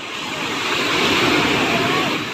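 Large sea waves churn at a harbour, a loud continuous wash of surf and water noise with wind on the microphone, filling the whole short stretch.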